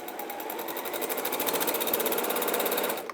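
Close, steady whirring clatter of a sewing machine running a continuous bag seam at even speed for a few seconds, rhythmic needle ticking throughout, stopping right at the end.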